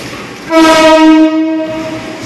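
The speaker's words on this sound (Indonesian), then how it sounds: "rangkaian kereta api Probowangi dirapatkan di stasiun Ketapang dari Depo Induk" A train horn blares near and loud for about a second, its steady harmonic tones fading into the rumble of the Probowangi passenger train rolling into Ketapang station.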